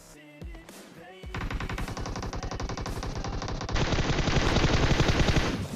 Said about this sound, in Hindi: ये एक नॉर्मल प्रेडिक्शन शॉट थे जिससे मैंने उस बंदे को नॉक कर दिया